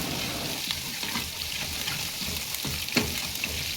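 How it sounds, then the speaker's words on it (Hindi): Garlic, ginger and green chili frying in a pan for a chicken masala, a steady close sizzle with soft crackles and a few brighter pops from stirring. "जिंजर चॉप, ग्रीन चिली, इसको थोड़ी देर तक हम अच्छे से भून लेंगे ताकि गार्लिक थोड़ा ब्राउन हो जाए।"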